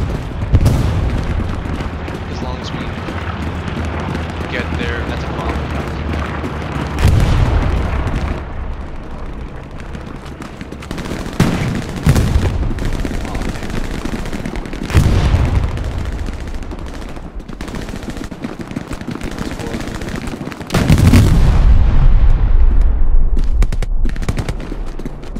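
Battle sounds in the World War II shooter Hell Let Loose: bursts of gunfire and several heavy, booming bomb explosions, loud and close, with rumbling aftermath between blasts.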